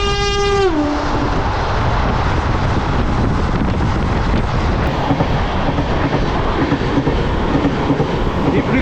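The Darjeeling Mail arrives in the morning, opening with a loud blast of its horn that drops in pitch, then a heavy, continuous rumble and clatter of the train close by.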